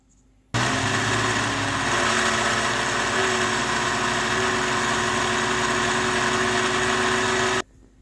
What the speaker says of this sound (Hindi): अब इसको 2 से 3 मिनट के लिए और ब्लेंड करेंगे।